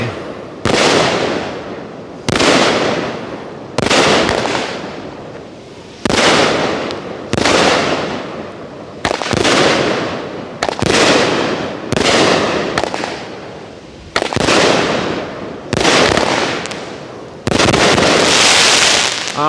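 A Pyro Diablo Go Hard or Go Home 16-shot firework cake fires loud, booming launches one after another, each followed by a crackling burst tail. The blasts come in a steady, fairly evenly spaced sequence, close and powerful, with no talking.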